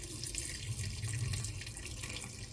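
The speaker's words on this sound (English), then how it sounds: "the rest of the whey that's in there is going to drain out when we put it in the strainer here" Whey from fresh cheese curds pours and drains with a steady watery splashing and trickling, close and continuous, no voices.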